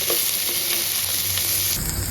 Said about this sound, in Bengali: এই তেলে হচ্ছে আমি কিছু আলু ভেজে নিব